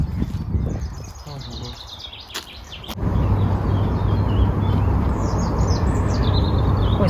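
Birds sing and chirp in quick repeated phrases outdoors in a botanical garden in May, fairly clear, with a steady wash of wind or ambient noise and a bit of talking early on.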